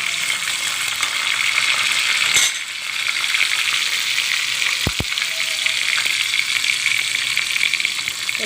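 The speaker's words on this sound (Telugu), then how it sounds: "ఇదేంటంటే వెంటనే తాలింపు వేసేసి" Curry leaves and garlic tempering in hot ghee, a steady bright sizzle and crackle throughout, with a brief dip and a couple of sharp metallic clinks partway through.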